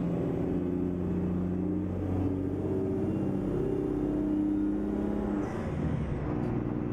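A Mack EM6-237 diesel engine pulls a Mack semi hauling 25,000 pounds of cargo in American Truck Simulator, a loud, steady, close low drone with rising and falling revs and no talking.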